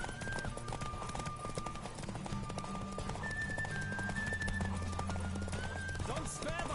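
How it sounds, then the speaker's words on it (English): Rapid hoofbeats of a galloping horse in The Witcher video game clatter steadily throughout, mixed with a musical score and faint voices. "Don't spare the horse."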